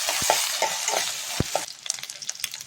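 Onion and ginger garlic paste sauté for Pallipalayam chicken, a steady close sizzle in the pan broken by scraping stir strokes and a few sharp clinks that grow sparser toward the end.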